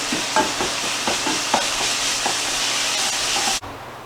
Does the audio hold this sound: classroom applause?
no